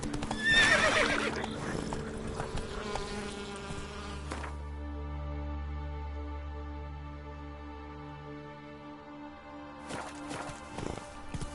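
Roach the horse gallops and neighs in a video game: a loud whinny comes up front, hooves clop steadily beneath it, and later a low sustained rumble with further hoof beats and rustling follows.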